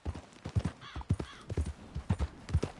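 Video game horse hooves clip-clop in a steady trotting rhythm, close and clear, with a short whinny-like tone in the middle.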